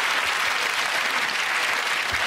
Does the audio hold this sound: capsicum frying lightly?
no